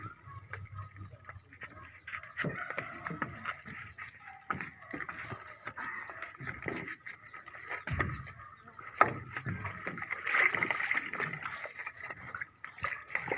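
Water sloshes and laps against a small wooden fishing boat, with creaks and knocks at irregular intervals and a faint hiss of moving water.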